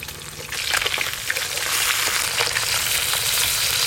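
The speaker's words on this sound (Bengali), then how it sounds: "প্রথমে রুই মাছগুলো ভেজে নেব।" Rohu fish frying in hot oil in a pan, a quiet start that swells into a loud, continuous close-up sizzle with crackling spatter and light stirring.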